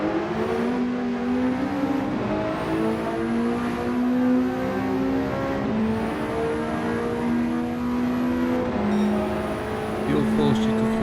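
Car engine noise from a Gran Turismo 7 race played on a wheel: a steady droning engine note that rises and falls through gear changes, loud and continuous, with a second car's tone layered over the top.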